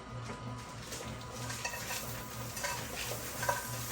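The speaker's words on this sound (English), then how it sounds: "to this roux, I'm going to add my frozen Trinity that's partially cooked." Partially cooked frozen trinity vegetables are stirred into a roux in a pot, giving soft rhythmic scraping strokes over a quiet sizzle, close and without talk.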